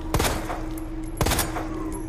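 Two sharp gunshots ring out about a second apart in Resident Evil 2 Remake, close and loud over a steady game hum with a faint tone.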